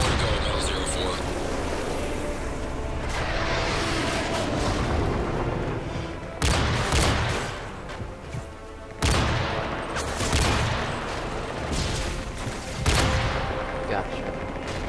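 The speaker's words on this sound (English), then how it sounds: "watch how they're starting to shoot RPGs" Rocket-propelled grenades and rapid gunfire erupt in a Modern Warfare 3 Spec Ops match: continuous loud bursts of automatic fire with repeated heavy blasts and booms, a dense, chaotic battle soundscape.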